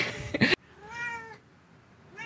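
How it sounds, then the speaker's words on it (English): A pet cat meows once, a clear drawn-out call close by, after a brief burst of other noise at the start, with a faint trace of another sound at the end. "You might be hearing my cat, Macon."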